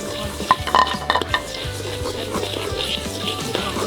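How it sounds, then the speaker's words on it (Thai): Metal utensil stirring and scraping white and black sesame seeds dry-roasting in a pan, with repeated clinks and scrapes over a steady crackling sizzle, loud and close. "แล้วก็เริ่มคั่วกันเลยนะครับ"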